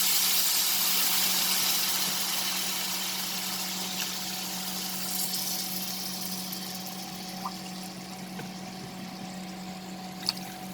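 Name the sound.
water being poured into dough mixture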